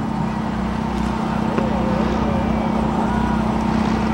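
A Blue Angels jet at an air show drops its power and falls into a spin, giving a steady, loud engine roar with a low hum and wind noise running unbroken from start to finish.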